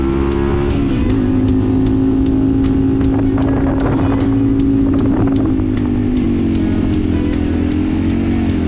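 The 15-horsepower engine of a Honda Varadero 125 motorcycle drones loudly and steadily, its pitch holding as it labors uphill, with wind buffeting the microphone throughout.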